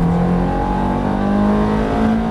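Ferrari F430 engine accelerating hard on the Issoire race circuit, a loud steady roar with rising harmonic tones held throughout, close and continuous.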